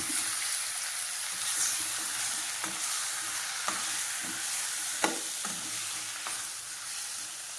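Chicken and onions sautéing in a pan for a Tamil-style chicken fry, a steady sizzle with intermittent scraping clicks of a spoon stirring against the pan.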